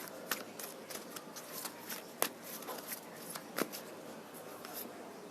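Tarot cards are shuffled by hand up close, making a quiet run of soft riffles and crisp snapping flicks at an irregular pace.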